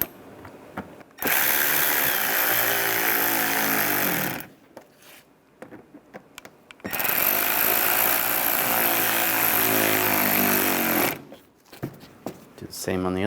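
A power drill tightens screws on the grille of a 2011-2015 Chevy Cruze. It makes two long, loud whirring bursts of about three to four seconds each, with a short, quieter gap between them.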